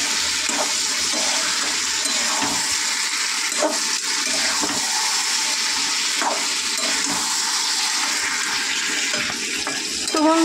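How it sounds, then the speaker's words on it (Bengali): Chopped tomatoes tossed into a pan of frying mutton curry produce a steady, loud sizzling hiss with faint stirring and scraping throughout, rising slightly at the end. "এবারে কুচিয়ে রাখা টমেটোটা দিয়ে দেবো।"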